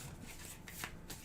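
A deck of Pathfinder Adventure Card Game cards is shuffled by hand at a table, a soft, quiet riffling and rubbing of card stock heard close and alone.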